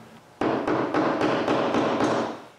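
Wooden dowels are tapped into glued holes during a dresser glue-up, giving about eight close, sharp hammer taps in a steady rhythm.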